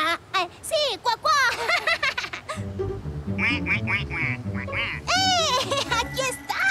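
A duck character on the Spanish-language children's show Sésamo quacks repeatedly in lively, bouncy bursts, mixed with animated, high-pitched voices talking.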